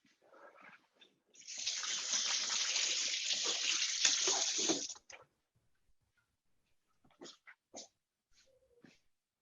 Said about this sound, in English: Just going to wash my hands.